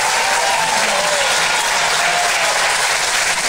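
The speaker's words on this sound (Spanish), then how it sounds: "Que suene más fuerte el aplauso para nuestro alcalde de Vicuña, Rafael Vera Castillo." Loud, sustained applause from a large crowd at the Municipality of Vicuña's 2022 public accounts event, honoring the mayor, Rafael Vera Castillo, steady and dense throughout with no talk.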